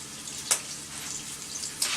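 Turkey sausage sizzling and browning in a pan, a steady close frying hiss with two brief louder spatters.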